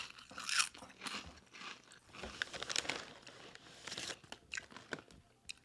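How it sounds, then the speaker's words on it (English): Crunchy snacks chewed close to the mic during a break from gaming, with loud, irregular crunches and bites popping out over a low background hiss, no talking. "Some chewing ASMR."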